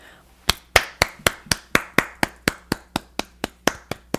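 One person claps their hands in a steady, evenly spaced rhythm of about a dozen sharp, close claps, each ringing briefly, with nothing else over them.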